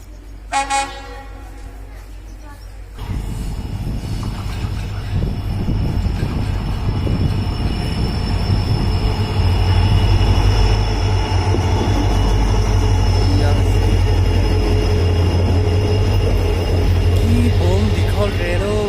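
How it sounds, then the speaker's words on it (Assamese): A train rumbles closer into Diphu station, wheels clattering and squealing steadily on the rails and growing louder, after a few seconds of voices at the start. "এয়া ট্ৰেইন আহি আছে এখন"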